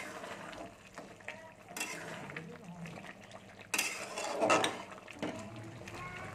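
A pot of fennel-spiced cauliflower curry is stirred after a little sugar goes in, giving soft scraping and clattering against the pot that swells in a few louder bursts, faint overall, with a low background hum.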